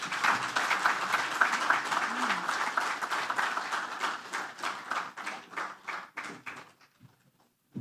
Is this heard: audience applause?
yes